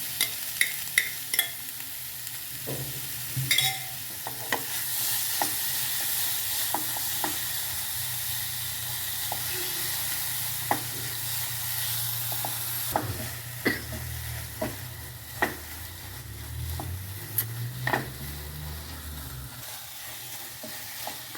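Spinach and pea paste with cauliflower cooks over a full flame, giving a steady broad sizzle while a spoon scrapes and clinks against the pan in scattered strokes throughout.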